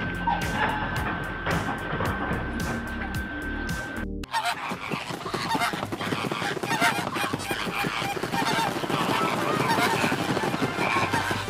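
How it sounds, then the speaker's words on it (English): Flamingos, large wading birds, honk loudly in a continuous chorus that fills the clip, with a brief gap near the start before a denser, steady flock din resumes. "Flamingos, a large wading bird, are listed in the Red Book and are protected in many countries around the world."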